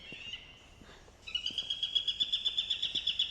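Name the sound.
recorded bird call played from a building to scare birds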